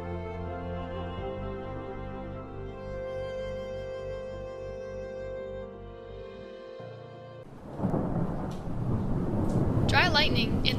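A monsoon thunderstorm, where a sustained tonal music bed gives way to a loud, rushing burst of thunder rumble and rain hiss that swells over the last few seconds, with no clear speech.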